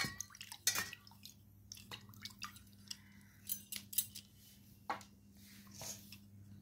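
Clay pots, including a Kolkata clay pot and a pebble pot, being washed with water: irregular splashes, drips and pouring with hard clinks of pottery, close and intermittent against a quiet low hum.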